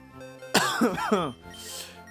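A single harsh cough close to the microphone, followed by a brief throat-clearing rasp, alone without talk.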